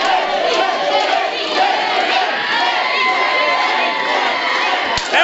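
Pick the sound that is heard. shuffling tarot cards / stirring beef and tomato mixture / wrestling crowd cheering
wrestling crowd cheering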